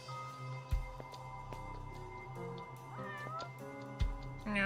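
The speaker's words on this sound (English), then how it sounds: "I hear a cat. I want to see the cat." A cat in a murder mystery video game meows several times, clear and fairly close, with soft game ambience and scattered clicks underneath.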